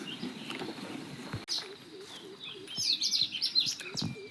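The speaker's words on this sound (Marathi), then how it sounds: "पाखरायचा आवाज तर मगापासूनच चालू झाला, 5:30 वाजल्यापासूनच." Birds chirp and tweet outdoors at dawn, scattered calls that grow busier and louder toward the end, with soft low rustling beneath.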